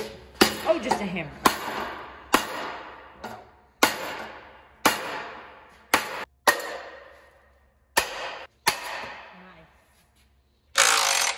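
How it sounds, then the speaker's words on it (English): Hand hammer blows ring out on engine parts of a Kodiak Duramax truck with a cracked piston, about a dozen sharp metallic strikes in an irregular sequence, each decaying quickly, with quiet gaps between. "just a hammer."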